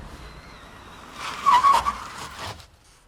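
A car skids hard while swerving to avoid a crash, a loud burst of tire screech rising mid-clip and then cutting off, with a quieter engine hum before it.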